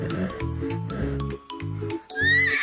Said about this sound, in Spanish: Sí, es el caballo.